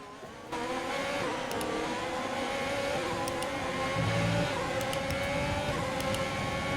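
An F1 race car engine drones at high revs in the F1 2020 video game, a steady, continuous whine held throughout with slight pitch shifts, loud and close, no speech.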